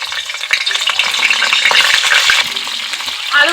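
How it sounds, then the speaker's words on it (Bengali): Cauliflower and potato pieces fry in hot oil, giving a loud, crackling sizzle that stays dense and continuous up close, with stirring noise mixed in and no voices. "এখন আমি ফুলকপি ও আলুটাকে একটু ভালো করে ভেজে নেব"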